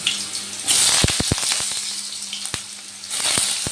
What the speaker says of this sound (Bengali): এবার আমি তেলের মধ্যে কেটে রাখা ঝিঙেগুলো দিয়ে দিলাম